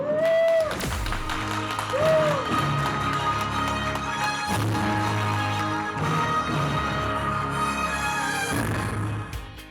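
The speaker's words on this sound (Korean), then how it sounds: "다시 한번 여러분 큰 축하의 박수를 보내주시길 바랍니다" Steady applause from a crowd at a KAIST climate-tech audition award ceremony fills the whole stretch, loud and continuous, with a few sharper claps and brief tonal sounds near the start.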